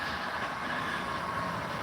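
Model trains run on a Digitrax-powered layout, giving a steady, continuous rolling rumble with a faint high whine, close and even throughout.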